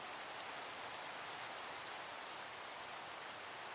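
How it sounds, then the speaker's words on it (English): Steady, faint rain falls in a video game, an even, continuous hiss with no voices over it. "I don't need to be dealing with the rain."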